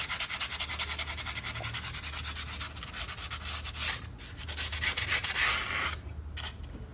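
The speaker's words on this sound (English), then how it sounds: "the first stage is to do a bit of sanding to remove the excess rust" Rusty metal plates on a 2004 Toyota Matrix brake caliper being sanded, a steady rapid rasping scrub that continues throughout with brief pauses near the end, close and fairly loud.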